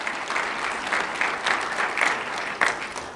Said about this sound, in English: You're clapping enough.